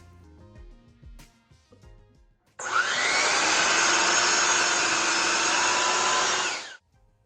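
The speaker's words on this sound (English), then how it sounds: "I'm going to take them over to the planer and get them to the right dimension" A wood planer runs through glued-up boards, a loud, steady, close-up roar starting abruptly and holding for about four seconds before cutting off, preceded by quieter shop clatter.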